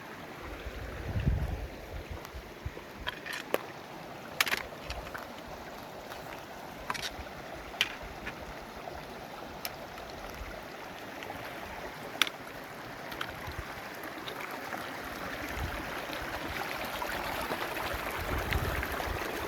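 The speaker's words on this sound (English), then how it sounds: "Oh, there's waterfalls." Waterfalls and a stream beside a trail: a steady rushing roar of falling water fills the background, broken by scattered faint clicks and taps, with no voices.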